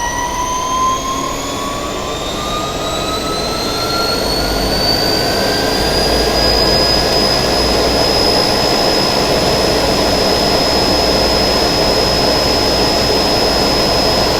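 A Dahlander induction motor at 220 volts spins near 3600 RPM, giving a steady, loud whine with rising tonal pitches over a broad whooshing hum, alone with no talk.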